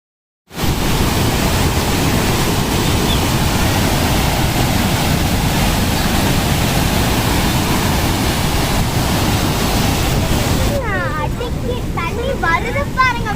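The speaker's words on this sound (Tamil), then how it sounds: "பார்த்தா எங்க மேலலாம் தண்ணி தெரிக்குது" Rushing water pouring and splashing at the Kallanai dam, a loud, continuous roar close by, with indistinct voices emerging near the end.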